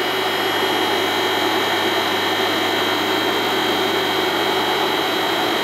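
A 3-phase electric motor runs on a 15 kW Frenic 5000G11 VFD, giving a steady loud hum with high-pitched electrical whine that holds constant throughout, close and without voices.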